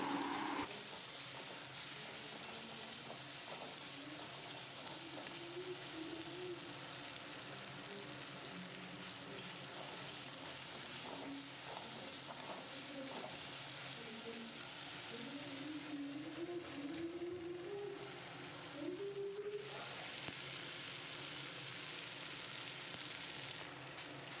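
Onion, tomato and ginger paste sizzle and fry steadily in a hot pan for aloo fulkopi dalna, a continuous close crackle with occasional stirring scrapes and no talk.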